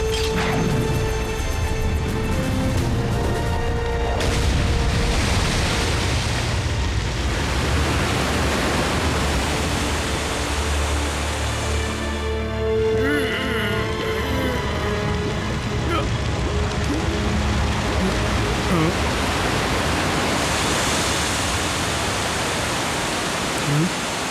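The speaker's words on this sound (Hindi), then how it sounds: "चलो ब्लेड्स, अब पानी गिराओ, जल्दी।" Water pours down from above onto a fire in an animated Transformers Rescue Bots scene, a loud, steady rushing and splashing that fills the whole stretch, with cartoon voices and music mixed in.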